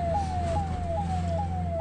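Ambulance siren blaring on BC Road in Bantwal, Dakshina Kannada, while ferrying a patient to Mangaluru: a loud, steady, repeating falling wail cycling about every 0.4 seconds over low traffic rumble, close by and continuous.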